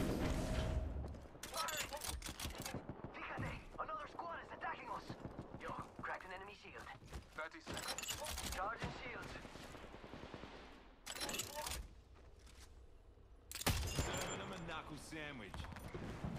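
Gunfire in an Apex Legends match, rapid bursts of automatic fire repeating close and loud over about sixteen seconds, with players talking in between.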